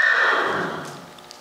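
A horse named Termite neighing, one short, fairly loud whinny that fades out over about a second.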